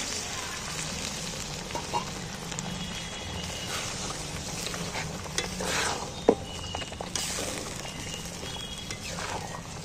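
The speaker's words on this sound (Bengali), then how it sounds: "আমি একটু জল দিচ্ছি মশলাটা যাতে ভালোভাবে সেদ্ধ হয়" Chicken masala simmering in a pan after water is added, a continuous low bubbling and sizzling hiss with a few small clinks, with a voice speaking over it.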